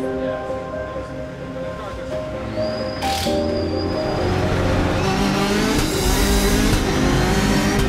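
Race car engines drone during a qualifying shootout with six cars on track at once. The sound builds in loudness and rises in pitch as it goes, with muffled voices faintly underneath.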